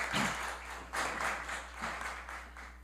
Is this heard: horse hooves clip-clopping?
no